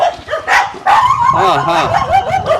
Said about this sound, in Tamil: சொல்ல போனா நாய்க்குட்டி தான் வரவே இருக்குது